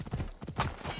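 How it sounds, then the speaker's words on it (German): Horse hooves clatter in a steady galloping rhythm during a ride in Assassin's Creed Odyssey, close and fairly loud against a busy game soundscape. "Phobos, gib Gas. Unser Ziel reitet davon."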